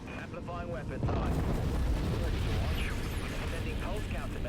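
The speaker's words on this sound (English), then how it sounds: "Let's hit this guy hard. Come on, torpedoes," A heavy torpedo explosion in the naval combat game Dreadnought bursts in about a second in, then a loud, sustained rumbling roar fills the rest, with fainter blasts and crackling layered on top.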